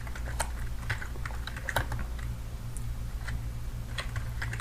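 Typing on a computer keyboard while entering a command in a Kali Linux terminal: a close run of light, irregular key clicks with occasional sharper taps over a steady low hum, no speech.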